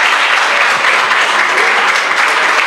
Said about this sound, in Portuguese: Agora vamos aplaudir mais uma vez o Senhor.